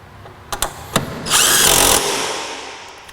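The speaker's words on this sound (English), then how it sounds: "I am using a step down for my 3/8 impact." A 3/8 inch impact wrench fitted with a step-down adapter turns a quarter-inch socket: a few short clicks and taps, then a loud rattling burst of about a second that stops abruptly.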